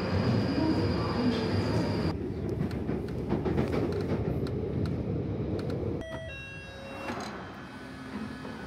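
A London Underground Northern line train rumbles loudly and steadily, wheels clattering on track, then slows with a brief squeal and hum of braking near the end.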